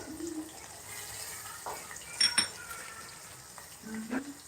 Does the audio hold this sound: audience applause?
no